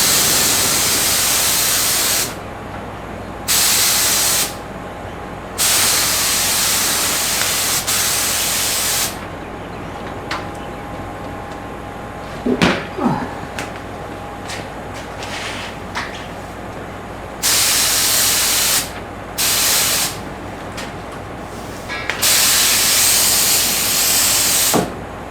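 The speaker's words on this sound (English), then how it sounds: "That's actually spraying pretty good." Bursts of loud, steady hissing from a paint spray gun spraying blue paint start and stop repeatedly, each lasting a few seconds, with quieter gaps and a couple of brief knocks between.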